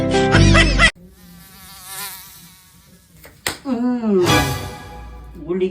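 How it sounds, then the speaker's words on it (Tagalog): A mosquito buzzing near the ear, a thin whining drone rising and falling, then a sharp slap and voices talking over it. "Babae tong lamok na to."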